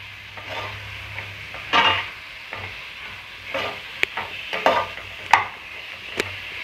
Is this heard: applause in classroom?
no